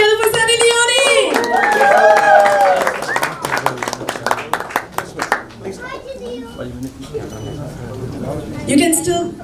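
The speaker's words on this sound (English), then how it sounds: "You can still keep clapping." An audience claps and cheers to welcome the actress and model Sunny Leone. Sharp, dense handclaps rattle through the crowd alongside excited voices and children's chatter, then thin out into scattered claps before a final swell.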